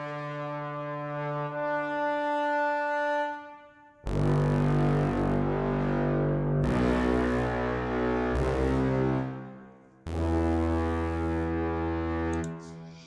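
MuseScore 4 Muse Sounds tuba with a brass section: a lone sustained brass tone first, then loud full low chords swelling in, breaking off, and returning in three long blocks, rich and raspy, no voices.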